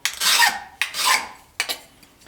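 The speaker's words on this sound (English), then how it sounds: "I'll just file down the edges, take off any burrs" Three rasping strokes of a hand file working over the edges of a lightweight aluminum bracket to knock off burrs, each pass a loud, close, gritty scrape with short pauses between.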